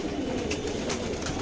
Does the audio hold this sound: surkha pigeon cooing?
yes